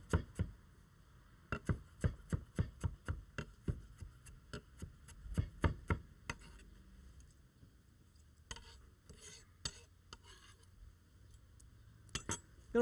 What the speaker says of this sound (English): Some additional cilantro. I'm going to just give that a coarse chop.